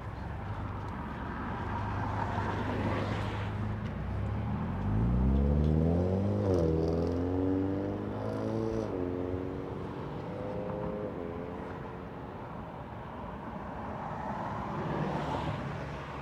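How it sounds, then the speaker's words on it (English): Air Force One taxis to parking at Los Angeles International Airport, its jet engines a steady, loud rumble that swells and shifts pitch as it moves past, heard from a distance with no other sounds over it. "Air Force One, taxi to parking."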